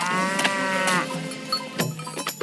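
An old water buffalo in a Hindi village cartoon gives a long, loud moo, followed by shorter grunting lows, heard close with no talking.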